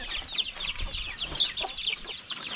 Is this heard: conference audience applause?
no